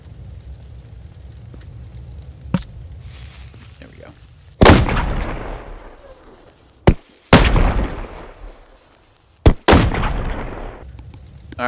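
Loud bursts of exploding fireworks in the video game Fireworks Mania: several sharp cracks and booms, each followed by a crackling, fizzing tail, with brief pauses between.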